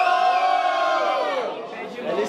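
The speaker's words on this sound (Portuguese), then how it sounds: "Barulho, muito barulho para as rimas da LC" A loud crowd cheers, shouts and whoops at a rap battle event, a dense sustained roar of many voices that eases slightly toward the end.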